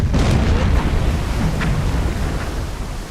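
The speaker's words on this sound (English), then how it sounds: "I hit him with 5 torpedoes." Torpedo explosions strike a ship in a naval video game, heard as a deep, rumbling roar that swells and then slowly fades, loud and with no one talking.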